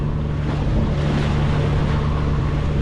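Sailboat motor sailing with the main up off the Southern California coast near Newport Beach, a steady low engine drone mixed with wind buffeting and water rush, loud and continuous with no talking.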